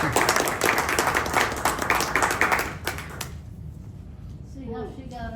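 An audience claps together for about three seconds, a dense, fairly loud patter of hands that fades out, after which a person starts talking.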